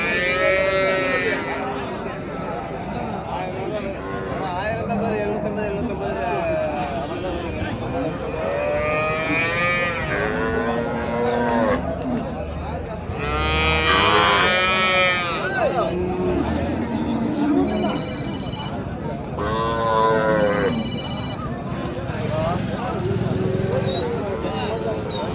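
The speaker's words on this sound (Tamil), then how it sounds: "கை கறவை மாடு எப்படி பார்க்கலாம்." Dairy cows mooing at the Karungalpalayam cattle market in Erode, repeated loud, drawn-out moos from several animals amid a busy crowd babble and talking.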